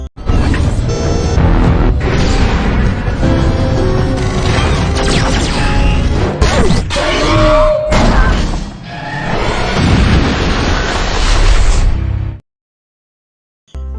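An aircraft crashes and is destroyed in a film scene about alien invasion and Earth's destruction, with loud, dense crashing, thuds and booming impacts that rage continuously before cutting off abruptly into silence.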